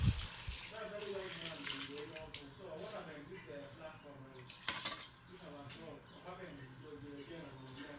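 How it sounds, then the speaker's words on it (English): Water splashes and gurgles into a cooking pot for yam and beans porridge while a person talks over it, the pouring steady with a few clanks of metal. "So let's add in our water."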